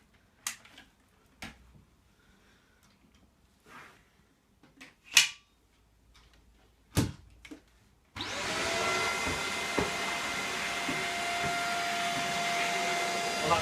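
A Shark NV340UKT Rotator Lift-Away True Pet vacuum cleaner fitted with its hard floor tool starts up after a few scattered knocks and clicks, then runs as a loud, steady whine that continues to the end.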